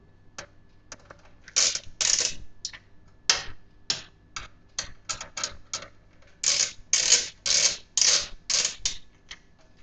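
A screwdriver turning screws into a computer optical drive bay, quick ratcheting clicks and metallic ticking in short bursts with pauses between screws, close and crisp.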